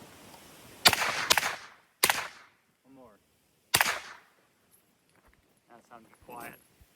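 Four loud, sharp supersonic rifle shots from a Heckler and Koch SP5 SBR fired into dirt outdoors, two close together, then two spaced apart, each with a short decaying crack; faint voices murmur in the gaps.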